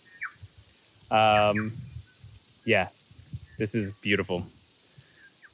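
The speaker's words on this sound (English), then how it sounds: "once the cicadas go to sleep" Cicadas in the New Zealand North Island countryside give a steady, high, continuous buzz throughout, while people talk nearby in short bursts.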